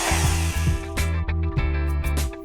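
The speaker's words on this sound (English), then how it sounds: "Next, drill a small pilot hole." A power drill bores a small pilot hole in a kitchen cabinet door, its motor whining steadily and close up, pulsing in short repeated bursts as the bit bites into the workpiece.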